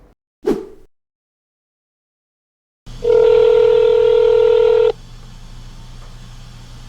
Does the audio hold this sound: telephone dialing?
yes